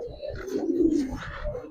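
Giribaz and coloured pigeons in a loft give a short, soft, low coo, close and fairly quiet, with faint background noise.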